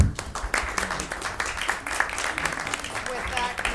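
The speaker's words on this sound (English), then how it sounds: "I'd just like to take the opportunity to thank everybody as well as applaud you all" At the close of a school building committee meeting, a room of people applauds with scattered clapping, moderately close, mixed with murmured voices.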